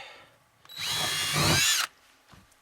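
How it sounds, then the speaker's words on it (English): A power drill whines at high speed for about a second, its pitch shifting as it bites through car carpet in a Chevy Bolt, then stops abruptly. "I'll take my drill and I'll drill a hole there through the carpet"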